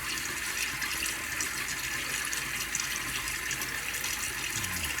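A tap runs steadily into a sink while someone wets their face before a shave, a continuous hissing water stream with no voices over it.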